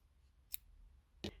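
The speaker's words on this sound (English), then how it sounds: "Then you can go ahead and trim off your old color." Scissors snipping off a strand of crochet yarn, two short, sharp clicks about seven tenths of a second apart, close by in a quiet room.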